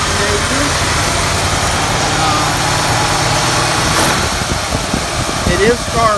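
A carbureted ice cream truck engine, converted from fuel injection, idles just after a cold start in cold weather, giving a loud, steady rumble with a voice close by.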